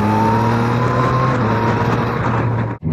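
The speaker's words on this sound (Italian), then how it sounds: "Senti come scasa la Krapovic." A Yamaha MT-09 motorcycle with an Akrapovič aftermarket exhaust gives a loud, throaty roar holding steady with a low droning tone, then cuts off abruptly near the end.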